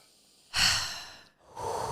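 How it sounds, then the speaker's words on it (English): A person takes a deep audible breath, a loud close inhale followed by a second long exhale-like rush, with no speech. "Okay, deep breath."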